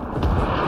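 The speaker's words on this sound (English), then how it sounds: "They're calling airstrikes on me to try and kill me" A single brief, heavy boom from an airstrike in the military shooter game Squad: a deep, rumbling blast that fills the moment loudly, with no talking over it.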